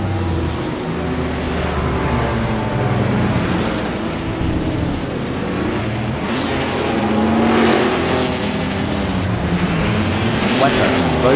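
Historic race cars roar around the Sachsenring in the Assetto Corsa racing game, with engines droning steadily and revving up as cars pass, loud and continuous under ongoing talk.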